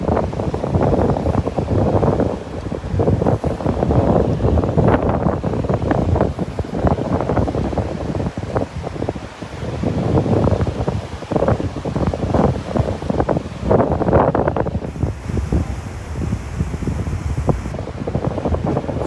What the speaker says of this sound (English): that wind is pretty fierce at times.